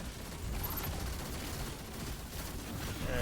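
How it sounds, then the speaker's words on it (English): Video-game machine gun fire in Destiny, a dense steady fusillade of rapid shots that carries on without a break at moderate loudness. "Reload the machine gun again"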